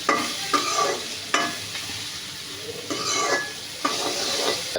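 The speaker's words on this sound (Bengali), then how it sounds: "কিছুক্ষণ ডালটা ভেজে নিতে হবে" Red lentils dry-frying in a pan with bay leaf and salt, a soft hiss broken by repeated scraping sweeps of a spoon, roughly one stir every second, close and clear.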